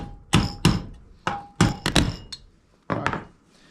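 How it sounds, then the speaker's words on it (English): Metal overlap piece of a rocket stove chimney banged aside, a series of sharp, close metallic thumps and clanks in uneven bursts, about eight strikes with short pauses. "So this overlap piece, I'm just gonna bang it out of the way for right now."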